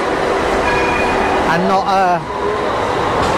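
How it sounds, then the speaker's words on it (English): A street tram in Istanbul, Turkey rumbling past close by, a steady loud rolling roar with a brief squeal and rattle midway, while someone talks over it. "this tram that follows you around"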